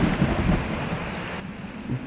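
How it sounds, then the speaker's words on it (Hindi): Heavy rain pours steadily in a thunderstorm with a deep rumble of thunder underneath, a dense, loud hiss throughout that eases slightly near the end, with no voices. "लगातार बरसती बारिश की झमाझम सुनाई दे रही थी।"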